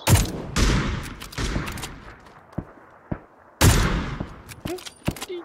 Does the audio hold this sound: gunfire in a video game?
yes